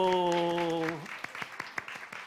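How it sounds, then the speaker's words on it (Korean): Congregation applauding the parents during a Sunday church service, starting about a second in after a sustained tone fades; scattered, moderately loud clapping continues to the end. "박수 해주세요"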